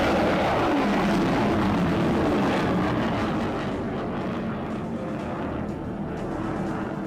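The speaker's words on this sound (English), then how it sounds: "The Cowpens launches a standard missile at an unmanned drone aircraft standing in for the Orion" A Standard missile launching from the cruiser USS Cowpens at sea, heard as a loud, close, continuous rushing roar that slowly thins and fades as the missile climbs away.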